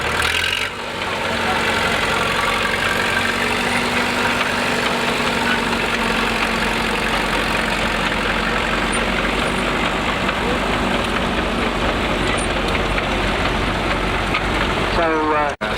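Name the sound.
vintage tractor engine running at a steam rally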